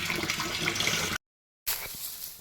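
Water from a hose gushes steadily into a basin dug around a cashew tree on a Konkan farm, cutting out briefly before rushing back in.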